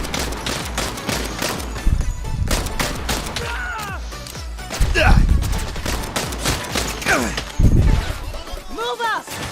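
Video game gunfire: repeated loud shots and volleys crack in clusters, mixed with crashes, while voices talk excitedly throughout.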